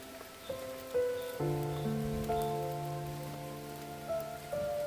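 Steady rain pattering on a surface outdoors, a continuous soft hiss with sustained tonal hum layered over it, moderately quiet throughout and without speech.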